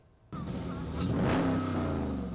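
A car club car engine starts loud after brief quiet on a Macon street and revs up then settles into a steady rumble, close by and alone with no talk.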